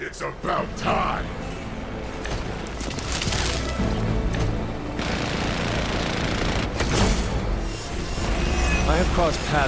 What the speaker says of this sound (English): That explosion just shorted out half our systems.